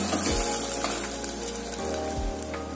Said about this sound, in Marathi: आता हे व्यवस्थित 2 ते 3 मिनिटं चांगलं मीडियम गॅसवर परतून घ्यायचंय व्यवस्थित